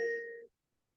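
A single clear ding chime rings out alone, bright and tonal, then fades quickly into silence.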